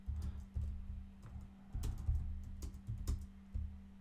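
Quick bursts of computer keyboard typing, close and clear, keys clattering in uneven runs with brief pauses as terminal commands are entered, over a faint steady electrical hum.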